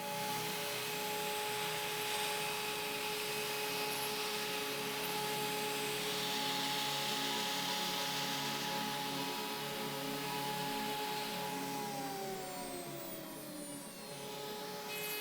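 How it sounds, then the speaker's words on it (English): CNC router with a 4mm flat end mill cutting through pockets of a wall clock part held on a vacuum table; a steady, loud whining drone runs throughout, with a falling tonal sweep near the end. "I used 4mm flat end mill to cut through the pockets."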